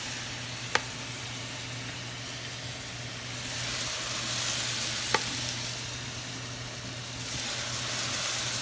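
Chicken seasoned with chicken bouillon stirred in a frying pan, a steady sizzle and hiss with a couple of sharp utensil clicks against the pan, close and moderately loud.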